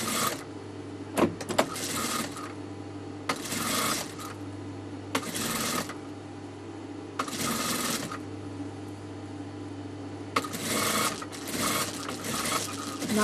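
Sewing machine stitching double piping along a neckline, running in several loud, close bursts of rapid mechanical whirring separated by brief pauses, with no talking.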